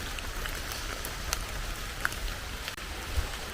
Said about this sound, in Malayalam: രാവിലെ ചെറിയ രീതിയിൽ മഴ ചാറി തുടങ്ങിയിട്ടുണ്ട്